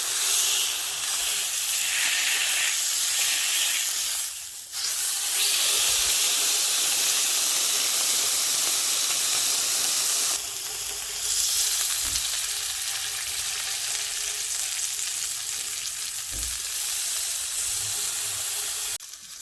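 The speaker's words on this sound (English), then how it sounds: "I'm going to sear the pork on all sides" Brined pork chops searing in a hot pan, a loud, close, continuous sizzle and hiss with a few brief dips and shifts as the meat is moved, no talking.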